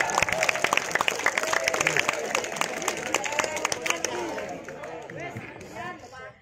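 Audience clapping at a school sholawat prize ceremony, dense irregular claps over crowd chatter that thin out toward the end, with voices audible throughout.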